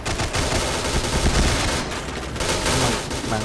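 An RPD heavy machine gun fires in the video game Point Blank: loud, dense, continuous bursts of rapid gunfire with no talking.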